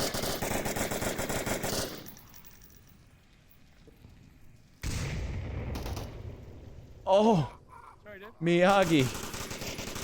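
Automatic gunfire in the VR shooter Onward, a player peppering a fence line during a competitive match; dense bursts at the start, then quieter stretches and a later burst, with commentators talking over it.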